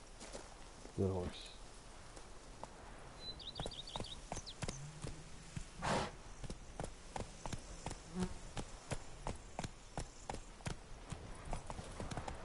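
Roach the horse's hooves clip-clop in a steady rhythmic walk in the Witcher 3 video game, Blood and Wine expansion, with insects buzzing faintly in the background.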